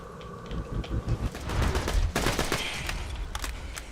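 Rapid bursts of submachine-gun fire from the Patriot's TMP fire SMG in Borderlands 2, dense and loud, overlapping with further shots and impacts in a chaotic firefight.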